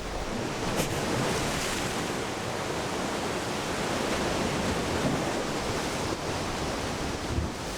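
Ocean surf breaking along a rocky Galápagos shoreline where marine iguanas feed on algae, a steady dense roar of crashing waves with no pauses, loud and continuous throughout.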